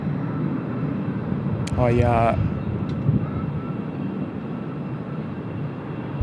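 An airliner on final approach to runway 22 at Tokyo Haneda gives a steady, moderately loud broadband roar throughout, with a brief voice heard partway through.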